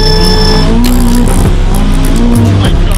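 A supercar in track mode accelerates hard, its engine loud and close as it revs upward through rising pitch sweeps, with brief tire chirps and a sustained aggressive roar throughout.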